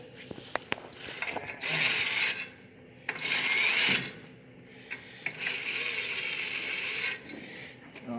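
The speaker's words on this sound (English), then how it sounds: "I'm going to take that last bolt out." Ratcheting and power-tool bursts while the last bolts come off the clutch cover of a Toyota FWD transaxle, three loud whirring spells of about a second each separated by quieter clicks and handling noises, close up with no talk.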